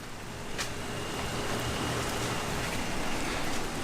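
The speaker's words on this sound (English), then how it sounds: "it's raining right now" Steady rain falls outside a house with a garage and driveway, a soft continuous hiss with faint low rumble, even in loudness throughout and heard alone.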